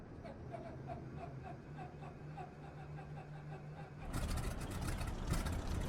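Starter cranking of a PT-17 Stearman biplane radial engine in Microsoft Flight Simulator, a rhythmic mechanical chugging that suddenly jumps to a loud, broad roar as the engine catches near the end.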